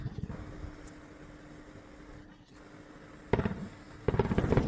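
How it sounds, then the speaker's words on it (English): Distant bursts of rapid gunfire and air defense fire crackle over a steady background rumble during a drone attack, growing louder and denser toward the end, with no voices. "The sounds of frantic gunfire and the usual ineffectiveness of Russian air defense repel the drone attack."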